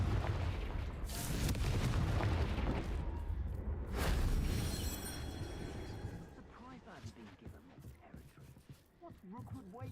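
Rumbling blasts from the Confringo fire spell in Hogwarts Legacy on Nintendo Switch, heavy booming for the first several seconds that then gives way to speech-like voices and game sounds.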